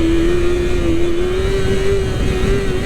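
A Yamaha R6 5EB sport motorcycle engine holds a loud, steady, close-up drone during a wheelie, with a strong continuous tone and no talk.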